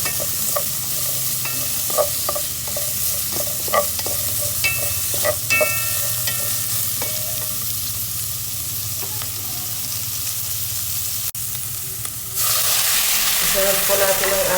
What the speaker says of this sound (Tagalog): Maglagay lang tayo ng konting mantika. Sangkot siya po natin ng ating sibuyas.